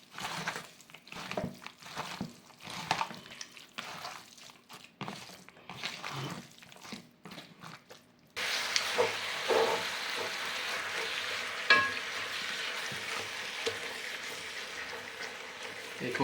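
Mutton curry with a little yogurt being mixed in a pan, soft scraping and stirring at first, then a steady sizzling hiss that carries on continuously to the end.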